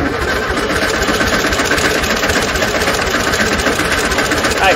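A 1972 VW Super Beetle engine, starting for the first time in over 30 years, cranks loudly and steadily with a dense, rapid mechanical chatter that stays constant throughout, close and unbroken.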